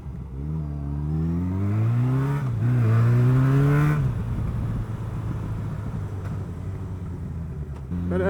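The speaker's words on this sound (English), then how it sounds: "Cars on the left." A car engine revs nearby with a rising pitch that climbs and drops as it shifts, then settles into a lower rumble as the vehicle passes along a street.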